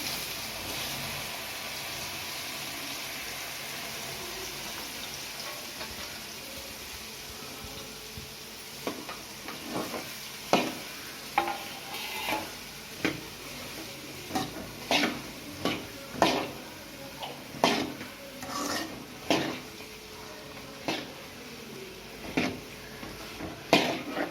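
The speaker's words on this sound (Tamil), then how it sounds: "பெருங்காயத்தூள் போட்டு மாங்காய் போடுறோம்" Mango pieces and asafoetida go into hot oil with popped mustard seeds for a Tamil mango pickle, bringing a steady soft sizzle followed by repeated sharp scrapes and taps of a spoon stirring against the pan.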